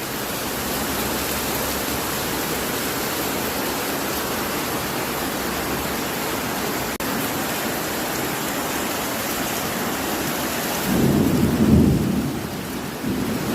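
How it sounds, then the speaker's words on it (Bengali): A thunderstorm with heavy, steady rain pours down in a dense, continuous roar, and a deep rumble of thunder swells near the end. Nobody speaks. "প্রচণ্ড আকারে মেঘ ডাকছে আর ঝুমঝুম বৃষ্টি"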